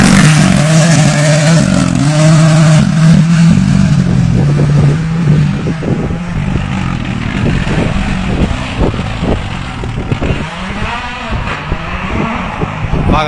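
A rally car on the Acropolis Rally special stage at Agioi Theodoroi in the Gerania mountains roars loudly nearby, revving and shifting as it passes, with gravel clatter and crowd voices around it.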